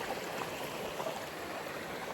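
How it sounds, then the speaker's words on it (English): A creek beside a winter campsite on the Appalachian Trail, partly freezing over, flows with a steady, even rush of water. "Here's the creek that we stayed right next to"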